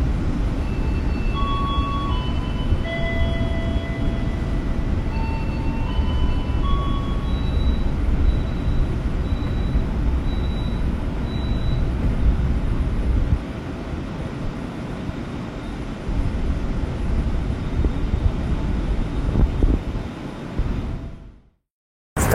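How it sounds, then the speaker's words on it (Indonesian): Tegal Bahari passenger train pulling out of Babakan station, with a steady loud rolling rumble and rising electric-motor whines heard from inside, fading toward the end. "Sekarang keretanya sudah berangkat dari stasiun Babakan"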